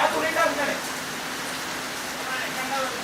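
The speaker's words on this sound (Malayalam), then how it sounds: "നല്ല നല്ല മഴ, മാഷാ അല്ലാഹ്, അടിപൊളി മഴ പെയ്യുന്നുണ്ട്." Heavy rain pours in a steady, dense wash of noise at moderate loudness, with a faint voice briefly at the start.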